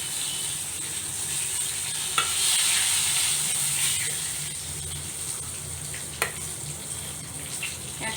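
Eggplant slices frying in hot oil for Bengali begun kopta in a village kitchen: a steady, moderate sizzle and hiss throughout, broken by a couple of sharp clicks from the pan or spatula.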